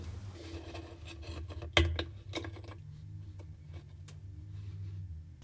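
A flat blade screwdriver pries the pulsator cap out of a Samsung washing machine with the lid open. A single sharp pop sounds as the cap snaps loose, set among faint scraping and light handling noises in a quiet room.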